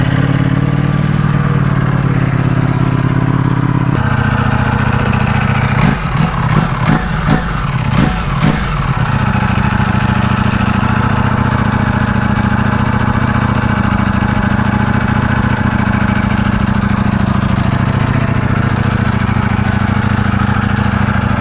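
A 2020 Ducati Panigale V4S fitted with an Akrapovic exhaust idles with a steady, deep rumble, broken midway by a short run of quick throttle blips before settling back to a smooth idle.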